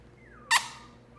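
A single short, bright squeak from a high-pitched squeaker toy played for newborn Goldendoodle puppies, a sharp burst lasting about a tenth of a second over a quiet room.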